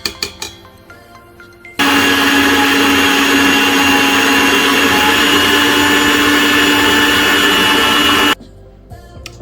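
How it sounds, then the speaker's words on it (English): Electric whisk beating cupcake batter, a loud steady whirring drone that starts abruptly, holds constant for several seconds, then cuts off, with light clatter before and after. "I'm gonna whisk it for another further 2 minutes or so."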